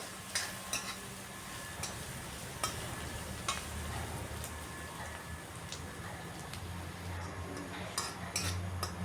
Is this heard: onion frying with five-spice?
yes